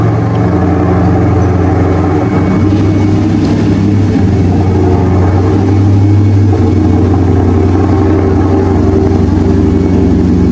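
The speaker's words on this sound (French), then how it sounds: "le son de la 8C, c'est vraiment impressionnant" An Alfa Romeo 8C sports car engine runs steadily in a garage, a loud, deep, throbbing idle drone that holds even for the whole stretch with no talk.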